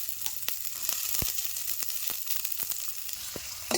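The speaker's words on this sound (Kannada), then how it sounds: "ಈ ಉಳ್ಳಾಗಡ್ಡಿಗಳು ಸ್ವಲ್ಪ ಗೋಲ್ಡನ್ ಕಲರ್ ಬರೋ ಹಂಗೆ ಫ್ರೈ ಮಾಡ್ಕೊಳ್ತೀನಿ" Finely chopped onions fry in hot oil for a spicy chilli dish, giving a steady close sizzle with scattered sharp pops and crackles throughout, no voices.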